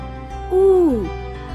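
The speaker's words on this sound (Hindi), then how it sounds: "उल्लू" A single owl hoot, a smooth, clear tonal call that rises slightly and then glides down, lasting about half a second over a quiet background.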